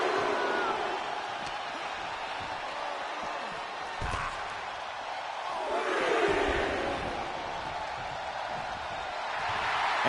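A video-game arena crowd at a WWE 2K25 wrestling match roars in a constant, distant wash of cheering that swells twice, with a thud of impact in the ring partway through.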